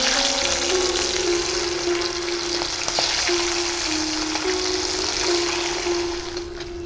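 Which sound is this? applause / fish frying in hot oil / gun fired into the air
fish frying in hot oil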